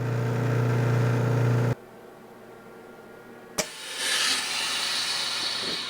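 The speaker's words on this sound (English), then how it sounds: "As cold as that stuff is, it's going under vacuum. It's actually boiling." A steady mechanical hum cuts off abruptly, then a sharp click is followed by a loud rushing hiss as a chamber vacuum sealer draws air out, making cold contents boil.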